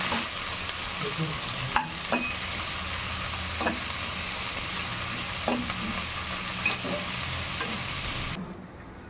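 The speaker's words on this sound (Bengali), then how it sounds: "5 মিনিট ধরে আমি পেঁয়াজগুলো ভেজে নিচ্ছি" Onions fry in oil in a pan, a loud continuous sizzle close up with a few brief spatula scrapes scattered through, no talking.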